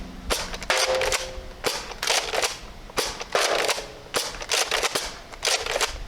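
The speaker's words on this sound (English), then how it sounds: "Having some inadvertent slam fire." Repeated sharp gunshots from a firearm slam firing unintentionally at a shooting range, a burst of several cracks, a pause, then more clustered shots, loud and close with no talking.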